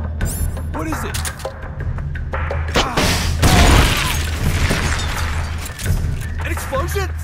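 A muffled explosion booms in the stealth action game Metal Gear Solid Peace Walker, a rolling blast swelling at the midpoint among mechanical noises, with radio-style voices talking around it.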